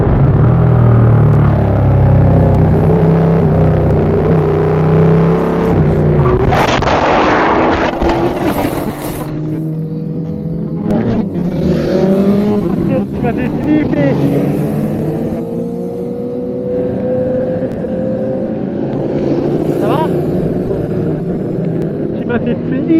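A KTM RC8 R sport motorcycle, ridden home after a minor crash, its engine a steady low drone with rising and falling revs under heavy wind buffeting, with a voice talking over it.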